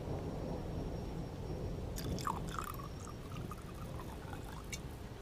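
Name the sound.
pouring a drink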